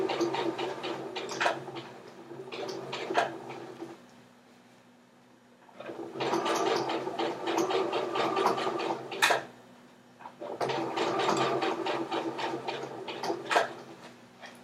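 Sewing machine running in bursts while stitching the casing for an elastic waistband on a pair of pants, steady rapid needle chatter in three long runs separated by short pauses, close and fairly loud.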